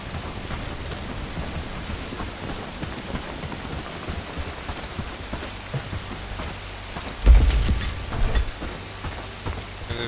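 Steady rain pours in the video game Bellwright, a continuous hiss of drops with a low rumble of thunder swelling briefly near the end, no speech.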